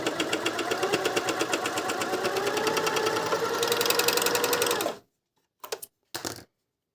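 DragonFly 858 sewing machine stitching fabric, a rapid rhythmic mechanical clatter running steadily for several seconds, then stopping, followed by a couple of short bursts.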